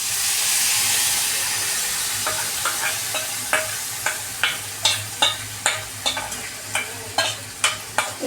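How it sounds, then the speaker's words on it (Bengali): Masoor dal and beetroot mixture frying in hot oil for fritters: a steady loud sizzle and hiss, joined from about two seconds by a regular run of sharp scraping stirs, roughly twice a second, with no talk. "এই যে এটা বানিয়ে রেখেছি আমি মসুর ডাল আর বিট একসঙ্গে যেটা মিশিয়ে রেখেছি না, এটা আমি এখন তেলের মধ্যে দিয়ে দেবো।"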